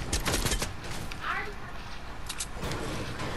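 Bursts of rapid gunfire crackle in a video game, several sharp shots in quick succession with a voice talking over them.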